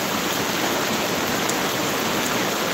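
Heavy rain pours steadily during Typhoon Carina on a wet morning, a dense, continuous broadband hiss that stays loud and close throughout with no speech over it.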